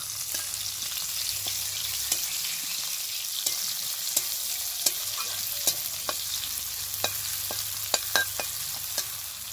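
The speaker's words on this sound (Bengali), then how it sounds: "এই দেখো পেঁয়াজটা হালকা করে একটু ভেজে নিলাম।" Chopped onions fry in hot oil with dried red chilli for a Bengali potol khashi curry, a steady close sizzle broken by sharp, regular clicks of a spoon stirring against the pan.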